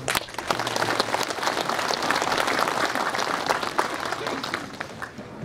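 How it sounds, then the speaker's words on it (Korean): A ceremony audience at a Korean Confucian academy's restoration completion event breaks into sustained applause, a continuous rattle of many hands clapping with some voices underneath. "감사합니다. 여러분 박수로."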